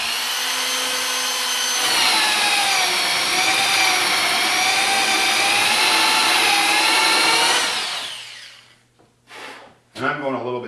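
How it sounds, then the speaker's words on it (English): A power drill cuts a 5/8 inch hole through a thick piece of wood, running as a steady loud whine for about six seconds, then winding down and stopping, with a few short clatters at the end. "so we can find a location for this after we drill out our 5/8 hole"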